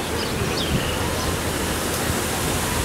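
The San Lorenzo stream, swollen by a storm, rushes beneath the Avenida San Martín bridge as a dense, constant roar of floodwater, steady and loud throughout with no pause.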